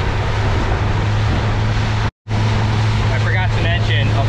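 A new outboard motor on a boat during its break-in run, off Guam, drones steadily and loud with a low hum and water rush, cutting out briefly before resuming as a voice speaks over it.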